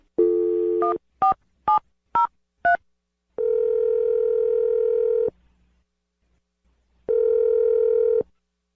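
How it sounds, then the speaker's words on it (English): A telephone line gives a steady dial tone, then five quick keypad beeps as a number is dialed, followed by two longer sustained tones with a short silence between them. "I'm going to dial the number."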